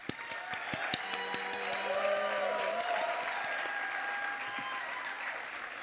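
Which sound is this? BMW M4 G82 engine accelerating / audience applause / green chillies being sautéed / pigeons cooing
audience applause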